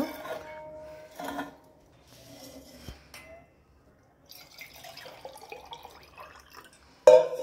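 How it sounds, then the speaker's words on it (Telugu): Water is poured into the small water chamber of a home coffee maker, giving intermittent splashes, drips and light clinks of glass or metal at close range, with no talking. "దీంట్లో వాటర్ పోసుకోవాలన్నమాట"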